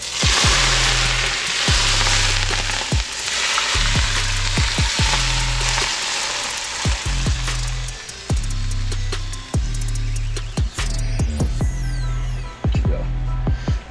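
Hot fried golden garlic and leftover fish-frying oil are poured over deep-fried peacock grouper (roi), setting off a loud, steady sizzle and crackle. The noise holds strong for the whole stretch, with small pops scattered throughout.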